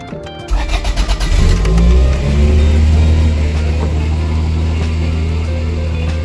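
A car engine cranks and catches after a repair, revving briefly before settling into a loud, steady high idle with a constant low drone close to the microphone.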